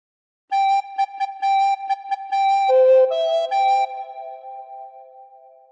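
Recorder plays a short phrase from What Shall We Do With the Drunken Sailor: a run of repeated tongued notes on one pitch, then lower sustained notes that fade out; clear, close and alone.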